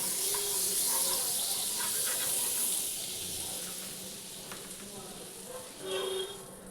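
Butter sizzling on a hot tawa, a steady hissing fry that holds close and even throughout, with a brief louder flare near the end.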